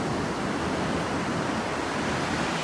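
Steady surf washing onto a Northeast Florida beach near Ponte Vedra, a continuous broadband roar of breaking waves with light wind, fairly loud and with no voices.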